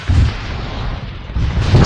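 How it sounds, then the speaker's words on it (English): A missile launches and explodes in the video game ARMA 3 with a loud, heavy rumbling roar that swells, dips and surges again, with no voices. "He's out in the open, heading south. Missile away."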